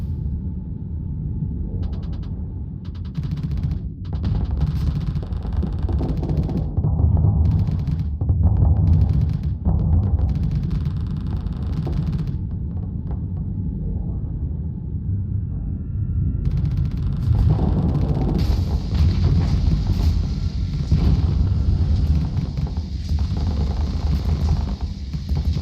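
Spaceship weapons firing an anti-shield barrage at a Mule-class ship in the space game Starsector: a long stretch of rumbling blasts and crackling bursts, loud and dense, with no voices.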